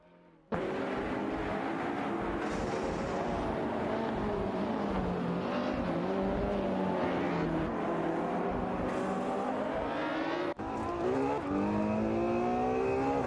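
Pagani Zonda F and Ferrari Fight Tributo race cars in a racing video game, engines roaring continuously at high revs with shifting pitch as they contest position, loud and sustained, with a sharp gear change near the end.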